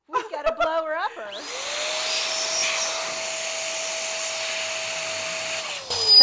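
An electric balloon inflator whirs steadily and loudly for several seconds while inflating balloons for an arch, preceded by a short burst of talk and squeaky rubber.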